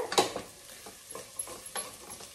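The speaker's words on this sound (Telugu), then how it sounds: "ఇవి బఠానీలు, ఉల్లిపాయలు కొంచెం వేగాయి కదా" Peas and onions frying in a pan with a little green chili, soft sizzling under scattered stirring scrapes and a few sharp clinks of a spoon against the pan.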